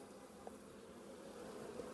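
Honeybees buzzing on a hive frame during a colony inspection, a soft continuous hum with no talk.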